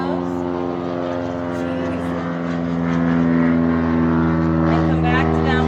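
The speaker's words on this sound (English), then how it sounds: "So many airplanes today." An airplane drones steadily overhead with a low propeller hum, continuous and fairly loud throughout, while a yoga instructor speaks over it.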